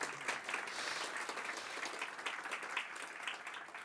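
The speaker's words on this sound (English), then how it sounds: "Yes, you can clap." Steady, fairly dense applause from a conference audience at a web development talk, many hands clapping together at moderate volume throughout, with no speech over it.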